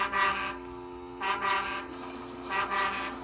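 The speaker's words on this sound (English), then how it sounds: "That foghorn is so loud it rattles my dome." Deep, blaring horn blasts sounding in three long pulses, each swelling and fading, loud and resonant.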